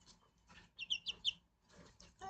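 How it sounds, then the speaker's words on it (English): A chicken gives a quick run of three or four soft, close clucks in the middle, set against a quiet room with faint talking around it. "It's a chicken."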